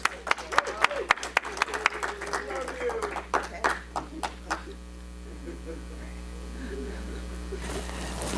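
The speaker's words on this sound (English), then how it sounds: "Big round of applause." A few people at a Rotary meeting clap in scattered, uneven bursts over a steady electrical hum, with voices murmuring as the clapping fades out.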